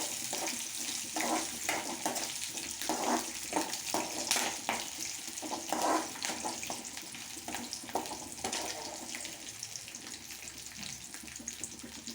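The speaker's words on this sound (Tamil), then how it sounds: "பச்சை மிளகா 1, வரமிளகா 3 ஆட் பண்ணி நல்லா வரமிளகா வந்து எண்ணெயிலே நல்லா ஃப்ரை ஆகிற அளவுக்கு வறுத்துருங்க" Green chillies and dried red chillies fry in hot oil for lemon rice, a faint, steady sizzle with light crackles and occasional spoon scrapes against the pan, no voices.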